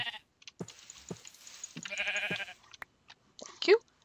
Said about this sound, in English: And that was a sheep.